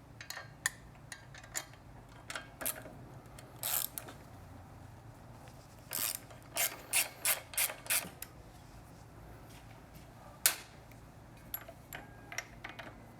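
A 12mm wrench works a bolt on the exhaust of a Triumph Street Twin motorcycle, giving a series of short metallic clicks and ratcheting ticks in quick bursts, close and fairly quiet over a low background hum.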